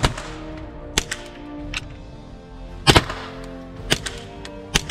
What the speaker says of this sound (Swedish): Alltså det är en så jäkla roligt gevär att skjuta